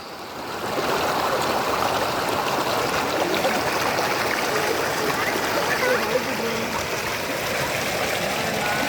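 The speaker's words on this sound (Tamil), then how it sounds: "ஆற்றுல நார்மலாக தான் தண்ணி போயிட்டு இருந்துச்சு" A river at Baralikadu near Coimbatore flows over rocks in a steady, loud rushing wash that runs continuously once it starts, with no clear breaks.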